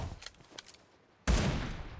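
Gunfire in the PUBG Mobile video game hits a car, a few quick close shots followed by a sudden loud blast that fades slowly.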